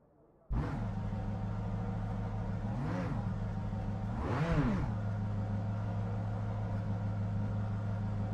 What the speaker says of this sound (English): I don't think it should sound like this because it starts from the electric engine,